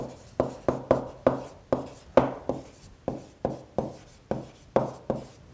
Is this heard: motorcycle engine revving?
no